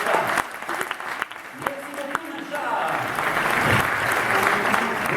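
An audience applauds at a magic gala in Nivelles, scattered claps at first building into steady, loud group applause, with a voice speaking briefly over it.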